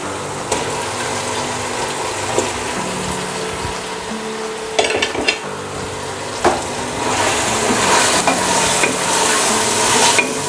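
Mutton frying with onions in a pot hisses and sizzles steadily, broken by several louder scraping stirs and clanks of a spoon against the pot, close by with no talking.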